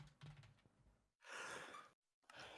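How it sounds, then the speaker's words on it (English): Soft, close breathy exhale like a yawn or sigh, a quiet drawn-out breath followed by a shorter breathy sound after a brief gap, with no talk. "I was yawning"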